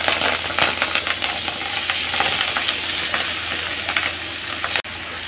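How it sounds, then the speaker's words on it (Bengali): Rice frying in hot oil with cardamom pods, a small cinnamon stick and a bay leaf for chicken tehari, making a steady dense sizzle with scraping stirs throughout, then a sudden drop near the end. "দিয়ে চালটা এর মধ্যে ভালো করে ভেজে নেব।"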